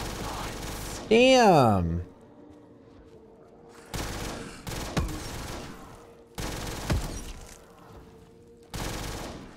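Bursts of M249 SAW machine-gun fire in a Call of Duty custom zombies match, coming in several loud volleys separated by short pauses, with a player's voice talking briefly over the gunfire.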